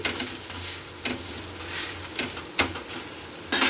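A ragi dosa roasts on a pan over a low flame with a soft, continuous sizzle, broken by a few scraping strokes.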